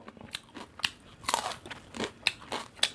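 Crisp fried pork being bitten and chewed close up, with sharp crunches in uneven bursts over a few seconds, served alongside Thai papaya salad, rice noodles and bitter gourd; no talking.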